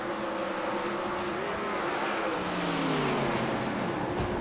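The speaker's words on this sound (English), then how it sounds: "you can hear the 3 cars having a hard time running after that hit" Race car engines in the NASCAR Legend Series at Atlanta Motor Speedway in iRacing, damaged after a crash, drone and whine continuously, tones sliding down as they labor, loud and steady with no talk.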